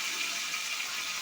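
Water pours steadily into a cooking pot of spiced ginger and cumin paste, a brief continuous splashing rush heard up close.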